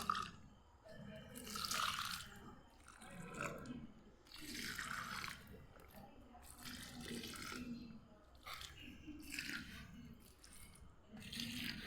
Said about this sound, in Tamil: இப்போ வாங்க இதுக்கு எல்லாத்துக்கும் தண்ணி ஊற்றிடலாம்